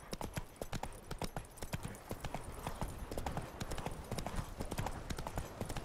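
Roach, Geralt's horse in The Witcher 3, trots on hooves in a steady clip-clop rhythm, close and continuous over a busy ambient game background.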